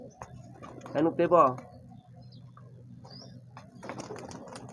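Pigeons coo in a rooftop loft, with a loud burst of cooing early on and softer calls after it. People talk nearby and their voices overlap the birds.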